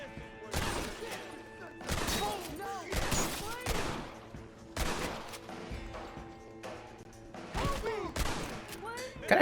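Bursts of rapid gunfire crack repeatedly in clusters in Red Dead Redemption during a bank vault hostage rescue in Blackwater, some sharp single shots among them, with faint game voices in the background.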